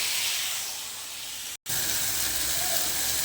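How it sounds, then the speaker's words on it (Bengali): Banana flower sautéing with spices in a pan for niramish mocha ghonto gives a loud, continuous close-up hiss and sizzle, broken only by a brief cut partway through. "মোচাটা এখন কষা হচ্ছে মশলার সাথে"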